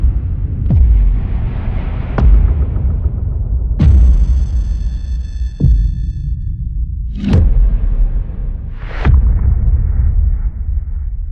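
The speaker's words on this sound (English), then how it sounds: "some of the boom sounds have some whooshes before them, before the actual impact comes in" Heavy cinematic booms land one after another, some preceded by a rising whoosh that sweeps into the impact, each leaving a deep rumbling tail.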